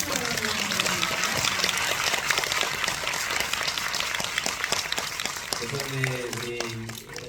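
Audience applause at a film talk event fills the room as a dense, steady wash of clapping, with voices and a brief tonal murmur rising over it toward the end.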